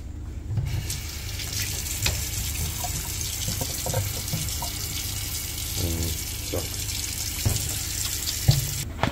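Kitchen tap running steadily into a sink while oxtail is rinsed, a constant close splashing rush with occasional clinks and handling knocks throughout.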